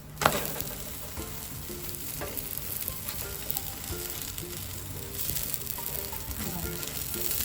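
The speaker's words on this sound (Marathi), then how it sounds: "मी याला तूप लावून घेते दोन्ही बाजूनी, म्हणजे हा खरपूस भाजला जाईल पराठा आपला." Aloo paratha roasting in ghee on a hot pan, a steady close sizzle and frying crackle that runs the whole time with a few soft scraping stirs.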